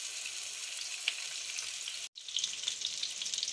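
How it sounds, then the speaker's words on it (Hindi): Stuffed tinda (round gourd) frying in hot ghee, giving a loud, steady, bright sizzle with a few pops, briefly cut off for an instant before the sizzling resumes. "अब हम इसमें इन टिंडों को फ्राई करेंगे।"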